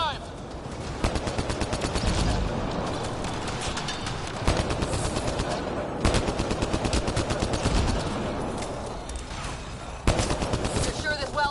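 Turret gunfire crackles through a Mass Effect Andromeda firefight in rapid automatic bursts, loud and close, with short gaps between volleys and heavier impacts, while voices speak over the shooting.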